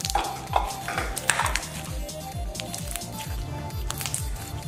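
Crunchy sponge slime squished and worked by hand, giving dense, continuous wet crackling and squelching with little bubble pops, close and steady throughout with no talking.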